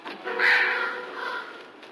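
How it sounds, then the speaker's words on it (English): A crow gives hoarse, rasping caws in a drama scene. The calls are loud and nearby, stretching over about a second and a half, with no voices over them. "Carol, be nice to crows. They remember things."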